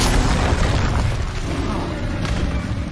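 A blazing Incendio fire spell erupts in Hogwarts Legacy as a loud, roaring burst of broad crackling noise that sustains and slowly settles, with a deep low rumble underneath.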